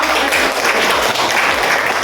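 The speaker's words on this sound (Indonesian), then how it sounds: "Oke, tepuk tangan." A school class claps together, a short burst of brisk applause filling the classroom.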